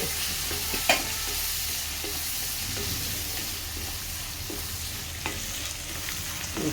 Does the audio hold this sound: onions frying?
yes